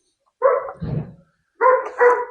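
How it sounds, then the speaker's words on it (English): Dogs barking indoors at feeding time, four loud, close barks arriving as a pair, a pause, then another pair, with a rougher, lower yelp between the first two. "They're barking up a storm inside."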